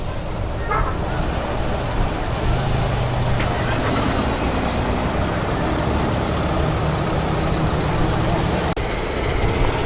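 A classic VDP 1300 with a twin-carburetted 1275 A-series engine runs at a steady idle at an evening car meet, a continuous low rumble heard up close while a person talks over it.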